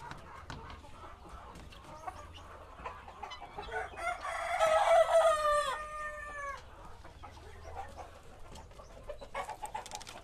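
A rooster crows loudly once in the middle, a long drawn call, amid soft clucking from a flock of meat chickens at a farm selling birds before Lebaran.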